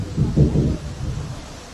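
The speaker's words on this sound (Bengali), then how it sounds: "এটাই ঝড় উঠে আসছে নাকি?" Low rumble of thunder from an approaching storm near the Kushtia border area during a tornado, a short deep roll that swells briefly and then fades, with no voices.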